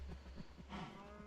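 Cattle mooing in the Minecraft video game, a drawn-out low moo swelling midway through, quiet and heard alone over a soft steady background hum.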